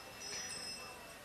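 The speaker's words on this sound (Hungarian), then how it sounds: "megkapta az indulást jelző csengő hangot" A starting bell rings at the Kiskunhalas CSI* international show jumping competition in 2003, a brief, faint, high ringing tone that fades quickly.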